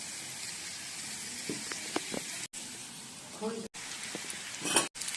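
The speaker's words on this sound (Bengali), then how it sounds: "এবার এটা ভালো করে ভেজে নেব।" Soybean pieces frying in a pan with potato and carrot give a steady, close sizzle with crackly high hiss, cut by a few brief silent breaks and small pops.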